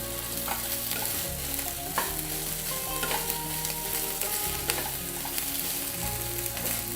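Soybeans fry in a pan with only a little oil, giving a constant close sizzle and hiss broken by occasional scraping and stirring knocks, no talk.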